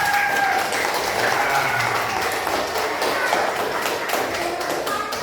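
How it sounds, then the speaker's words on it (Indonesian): Classroom applause from students, a dense burst of rapid clapping and tapping that starts loud and carries on steadily to the end, with faint voices mixed in. "Tepuk tangan, tepuk tangan."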